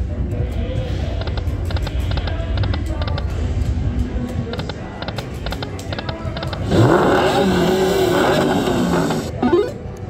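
Dragon Link slot machine game on an Atlantic City casino floor: a steady electronic casino din with scattered clicks, then a louder burst of bright jingling chimes near the end.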